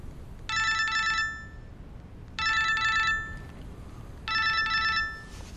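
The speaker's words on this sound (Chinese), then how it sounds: "海事局刘局长，我一看到他电话心就慌。" A telephone rings for an incoming call, three evenly spaced bursts of a bright electronic trilling ring with quiet pauses between them, heard alone.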